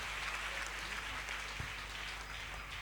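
A church congregation applauding loudly and continuously, a dense wash of clapping with faint voices mixed in.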